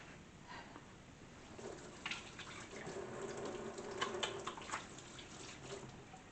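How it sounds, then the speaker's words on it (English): Hands washed under a running kitchen tap while a ham and cheese omelette breakfast is made; a faint, steady water hiss runs throughout with a few soft splashes and knocks. "But I'm going to wash my hands anyway."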